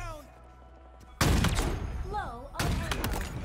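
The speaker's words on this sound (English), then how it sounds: "I shot him in the toe." Gunshots in Halo Infinite during a big team battle, two loud abrupt bursts of fire cutting in after a quieter stretch, close and heavy.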